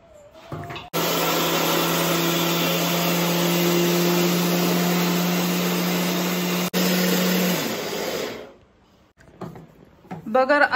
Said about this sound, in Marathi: आता भगर मिक्सर मधून बारीक करून घेऊया